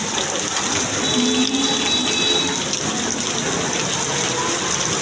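Steady, loud rain gushes down on Dhaka after two days of nonstop downpour, forming a thick, unbroken wash of noise with a faint tonal whine briefly riding on top.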